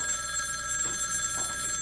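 A telephone rings indoors, a faint steady electronic tone with fine harmonics heard in short repeated bursts, quiet and alone without any voices.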